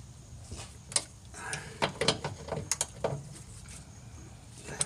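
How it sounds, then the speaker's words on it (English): A ratchet tightens the sway bar bushing bolts on a Honda Element, giving short bursts of clicking and mechanical ticks with brief pauses, close and moderately loud, and no talk over it. "Don't really know a torque specification on these, so we're just getting them tight."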